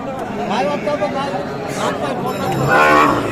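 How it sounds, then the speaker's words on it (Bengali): Cows at a cattle market moo loudly and close, several drawn-out calls rising over a busy crowd murmur with people talking nearby. "গাভীগুরু যেখানে কেনা বেচা হচ্ছে সেই জায়গায় রয়েছি আমরা"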